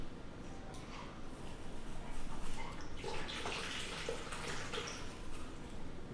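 Mesquite liquid smoke poured out of a bottle, a soft continuous trickling splash at low level, with faint background voices.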